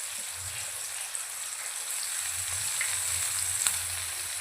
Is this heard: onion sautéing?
yes